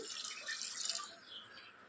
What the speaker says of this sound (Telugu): సో ఇప్పుడు ఇందులోనే వాటర్ యాడ్ చేసుకుందాం.